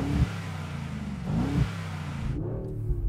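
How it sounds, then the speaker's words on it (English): A Mercedes-AMG G63 SUV with the standard exhaust in its loud mode revs up hard twice, a deep throaty roar rising and falling close by, then settles into a steady idle rumble. "This is what my car with a standard exhaust in noisy mode sounds like."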